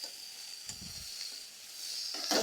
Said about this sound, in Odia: ଏପଟେ ଆମର କାଙ୍କଡ଼ ଆଳୁ ଭଜା ହେଉଛି